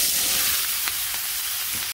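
Chopped vegetables tipped into hot oil left over from frying fish, with bay leaf and cumin already in the pan, hiss and sizzle loudly and steadily, close up, with no talking.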